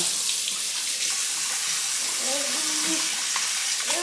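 Hot water runs steadily from a tap, hissing and splashing as a baby's teether is rinsed with non-toxic dish soap under the stream, with faint squeaky rubbing sounds.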